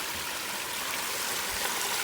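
Water flows down the stone steps of a garden pond waterfall built from Three Rivers stone, giving a continuous close rushing and splashing with no voices.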